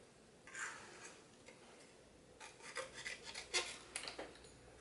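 Scissors cutting out a small hand-drawn paper card frame, a quiet close rasping and snipping that comes in short uneven bursts, with no talking.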